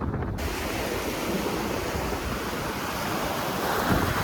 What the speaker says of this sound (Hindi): वो लहरें